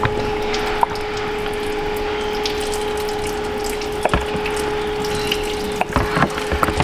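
Air from a cracked exhaust manifold, driven by a smoke machine, bubbles through water with a steady gurgling wash under a constant mechanical hum, with a few sharper bubble pops and splashes near the end.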